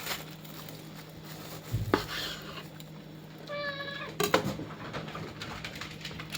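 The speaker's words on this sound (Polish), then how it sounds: "Co te koty tam robią?" Cats meow a few times, one clear drawn-out meow in the middle, amid background clatter and a low hum.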